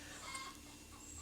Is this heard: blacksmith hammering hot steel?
no